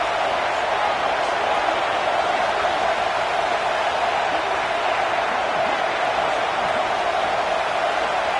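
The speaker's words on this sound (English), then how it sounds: "This crowd rising up," Football stadium crowd during the first half of a college game against TCU, a dense sustained roar of many voices rising and cheering, loud and continuous throughout with no pauses.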